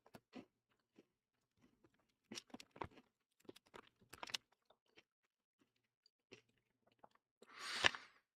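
Old Dutch All Dressed potato chips being crunched and chewed up close, with sparse, irregular crisp bites and quiet pauses, then a louder final burst of crunching.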